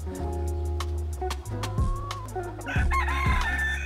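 Chickens cluck and a rooster crows repeatedly in a farmyard in Ankara, Turkey, the calls loud and close with overlapping squawks and no voices.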